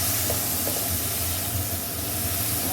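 Spices for machar kofta fry in oil with a splash of water added, giving a steady, close hiss and sizzle that holds evenly throughout with no talking.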